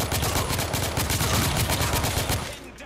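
Rapid, evenly spaced shots from a gun in The Order: 1886 ring out in a loud, sustained automatic burst lasting a couple of seconds before it cuts off.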